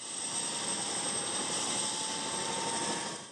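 Helicopter flying near Mexico's Gulf Coast, heard as a loud, steady engine and rotor roar with a thin high whine, holding constant throughout with no voices.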